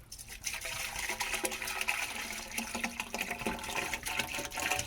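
A vinegar solution being poured down the PVC pipe of a clogged sand point well makes a steady, close gurgling and splashing of liquid that runs the whole time with small surges.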